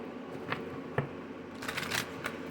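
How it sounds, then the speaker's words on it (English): Tarot cards shuffled by hand in a quiet room, a few soft riffling bursts and taps spread over a couple of seconds, fairly faint and close with no talking. "One last shuffle."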